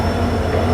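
A Gomteshwara Express train with blue coaches runs between Yesvantpur and Mangaluru, giving a loud, steady rumble of wheels on rails heard from on board, continuous with no talk.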